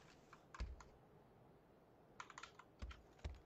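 Keys clacking on a cheap computer keyboard during a PUBG Battlegrounds session, a few scattered hard presses and short clusters of clicks, close and fairly quiet, with no talking.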